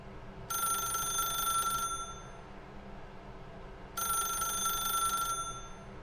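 An old-style telephone bell rings in two distinct bursts in The Stanley Parable: Ultra Deluxe, each trill lasting over a second with a pause between, clear and fairly close over a quiet room hum.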